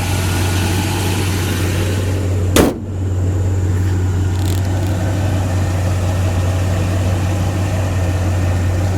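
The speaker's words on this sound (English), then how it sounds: "Runs excellent, idles very nicely." A 1968 Buick GS 400 with a rebuilt carburetor idles steadily and close by, a smooth low rumble with a steady hum, broken once by a brief sharp knock near the middle.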